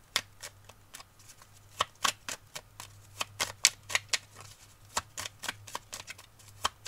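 Oracle cards being shuffled, a rapid run of crisp riffling flicks and snaps in uneven bursts, close up and fairly quiet over a low steady hum, with no one talking.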